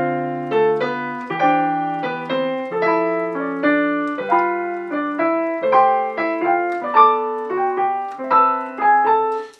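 Bebop enclosures on piano circle target notes over dominant 7th chords in a steady stream of clear, sustained notes and chords, up close and alone with no talking.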